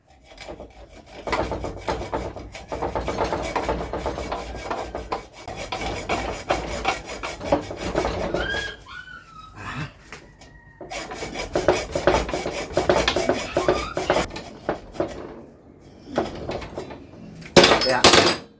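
A compressor discharge hose is cut by hand, giving long, loud rasping and sawing strokes in uneven bursts with brief pauses and a sharp clatter near the end.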